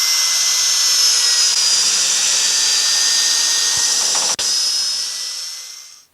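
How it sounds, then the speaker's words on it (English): A high-pitched power drill whines steadily and loudly, with a couple of brief clicks near the end before the motor winds down. "use a drill and just drill holes all the way around it."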